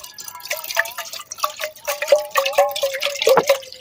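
Water poured from a vessel into a cooking pot set over an outdoor fire in countryside Jamaica, a rising, gurgling trickle of splashes and drips that grows fuller toward the end.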